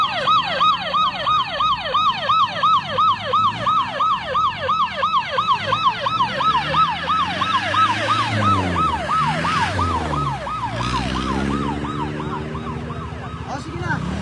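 A fire truck siren at a large industrial fire wails in fast repeating sweeps, loud and near, then its pitch bends downward as the vehicle passes by.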